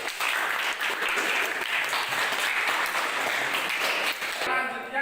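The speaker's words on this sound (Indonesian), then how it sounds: "Kita berikan aplaus kepada kelompok 1." Group 1 receives steady, dense applause from a classroom audience, sustained for several seconds before thinning out near the end.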